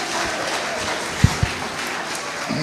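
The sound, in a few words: audience applause at a governorship debate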